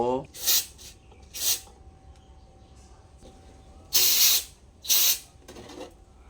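Cleaner is sprayed onto a removed Nissan oxygen sensor in five sharp, close hisses, two early, then a pause before three more in quick succession, over quiet background.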